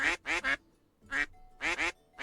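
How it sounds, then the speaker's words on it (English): Repeated duck quacks from the video game Pre-Odyssey, loud and close, coming in bursts of two or three calls separated by short pauses, with no talk over them. "There's a lot of quacking in this game"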